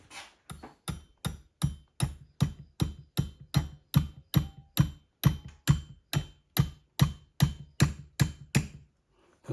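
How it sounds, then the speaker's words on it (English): A hammer taps a tapered flywheel key into a hit-and-miss engine flywheel, about twenty crisp metallic strikes in a steady, evenly spaced rhythm, close and clear with no talk. "I'm going to tap that in with a hammer"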